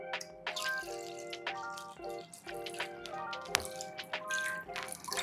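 Filtered tender coconut water poured into an agar agar mixture for a chilled drink, heard as a steady liquid trickle and splash with scattered drips and clinks, fairly close and without talk.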